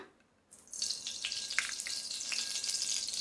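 Dal cooks with ghee in a pan, a quiet moment giving way after half a second to a soft, continuous sizzle with scattered crackles and light splashy ticks, no one speaking.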